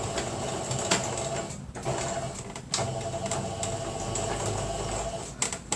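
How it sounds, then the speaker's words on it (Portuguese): A sewing machine stitching a zipper closure on a fabric ecobag wallet, a steady close mechanical whirr in long runs broken by two short pauses. "passar uma costura aqui para que ele não se abra mais"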